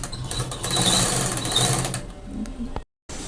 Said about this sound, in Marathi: उलट्या बाजूला आपण हे अस्तर ठेवून आता इथून पूर्ण शिलाई मारून घेणार आहे चारही बाजूने